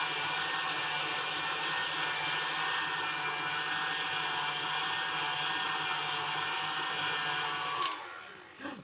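Electric mixer whipping meringue to soft peaks, a steady motor whine running continuously before a brief clatter and slowdown at the end.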